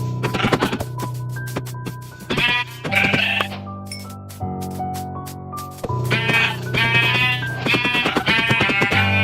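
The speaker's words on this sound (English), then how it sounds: "there was 3 sheep over on the other island" Sheep in the Minecraft video game bleat several times in short, clear calls over steady background game music.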